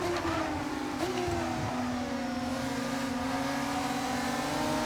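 Formula 1 car engine in the racing video game F1 25, a high-pitched whining roar that rises and falls through the revs with smooth tonal sweeps, loud and continuous.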